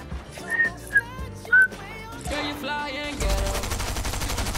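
Video game gunfire rattles in a rapid automatic burst during the last part, after whistling tones and musical sounds, loud and close.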